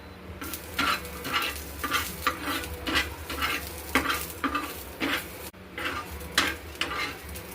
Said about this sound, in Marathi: आता आपण याच्यामध्ये 1 चम्मच घेतलेली बडीशोप भाजून घेऊ